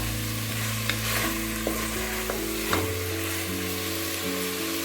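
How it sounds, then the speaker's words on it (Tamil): Boiled black chickpeas are tipped into a hot frying pan and stirred, giving a steady sizzle with scattered scraping clicks of the spoon against the pan, close and without talk. "இந்த வேக வச்ச கடலையை இதில் சேர்த்துக்கணும்"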